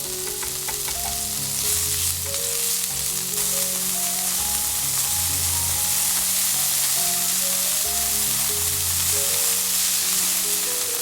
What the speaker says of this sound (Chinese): 用铲子按压一下，尽量把肉末炒散，同时不停翻炒，让肉末裹上酱汁